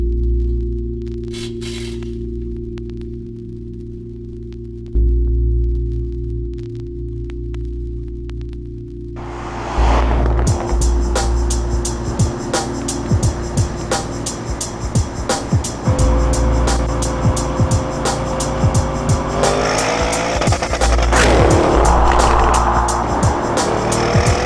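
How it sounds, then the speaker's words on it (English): A tuned Porsche Cayenne Turbo with a 4.0-litre stage 2 engine producing over 700 horsepower idles with a low hum, then starts driving with a louder engine roar and road noise. "That's the Cayenne"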